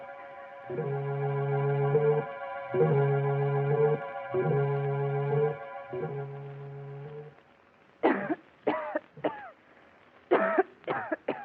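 A woman coughs repeatedly near the end, a quick series of harsh bursts after several seconds of steady music in a 1940s mystery radio drama.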